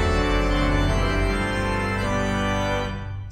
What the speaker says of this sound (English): With the zimbel, it sounds like this.